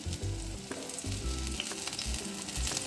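Gram-flour-battered amudi fish frying in hot oil, a steady loud sizzle with low bubbling bursts as pieces settle, continuous and close with no talk.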